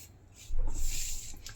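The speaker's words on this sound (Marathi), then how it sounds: "आता इथे आपण सरळ लाईन मारून घेतोय." Pencil or marker drawing a straight line across blouse pattern paper for a double katori blouse, a soft close scraping rub that starts faintly and swells into one steady stroke.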